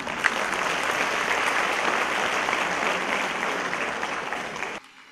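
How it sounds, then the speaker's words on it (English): Audience applause at a school annual day event, a steady and fairly loud burst of many hands clapping together that holds evenly for several seconds before cutting off abruptly. "A big round of applause for them."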